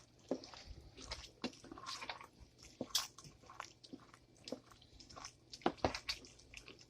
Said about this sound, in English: Stir that in and see what we have.